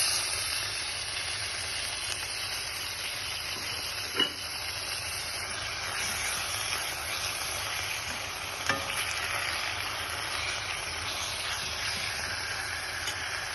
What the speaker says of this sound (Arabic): اول ما نحسوا البصل نتاعنا بدا يذوب، نحطوا عليه السكالوب